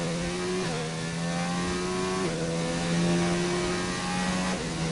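A McLaren Formula 1 car on soft tyres howls at full throttle through a flying lap of the Belgian Grand Prix, a steady high-pitched engine scream with brief gear-change dips, heard onboard and alone.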